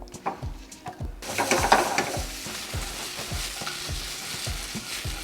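Onion is mixed into a hot pan for a Spanish omelette with chorizo. Repeated scraping stirs sound close and regular over a steady frying sizzle, with no voices.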